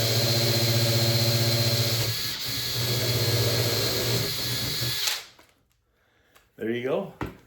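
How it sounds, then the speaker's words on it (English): Power drill driving a 1 inch hole saw through a door, a loud, steady whirring grind that dips briefly mid-cut and then stops abruptly, followed by quiet and a short burst of someone talking. "The hole saw's been changed. Let's do the 1 inch hole."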